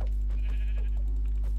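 Minecraft sheep bleat in a few short, nasal calls over a constant low electrical hum from a noisy game recording.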